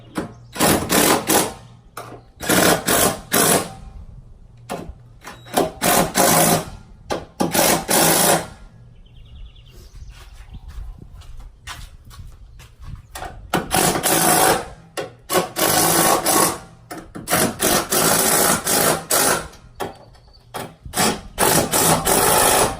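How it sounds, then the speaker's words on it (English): An impact gun bumps down the strut tower brace nuts on a 2005-2014 Mustang in repeated loud rattling bursts separated by quiet gaps. "I'm just going to bump them a little bit with the impact gun"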